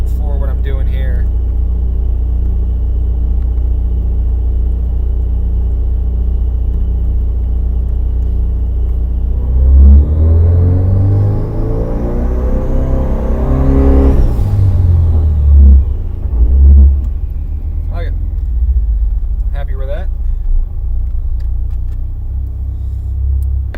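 A 2005 Subaru STi engine with a BW-S300 turbo, running flex fuel, idles with a deep steady rumble, then revs up sharply and falls back to idle, with a person talking intermittently nearby.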